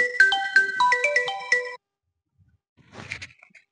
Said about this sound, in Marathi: कोणचा फोन आला बा?